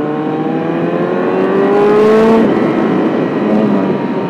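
A Yamaha R6 sport motorcycle engine revs loudly and steadily, its high whining pitch climbing through a swell in the middle before easing back, close and alone.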